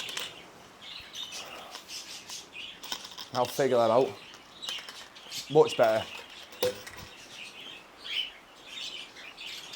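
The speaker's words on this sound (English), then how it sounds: "Oh, it's these finches now, they're going to be buzzing." Finches chirp and twitter in an indoor aviary shared with a rabbit, with wings fluttering and quick calls scattered across ten seconds while someone talks quietly beneath them.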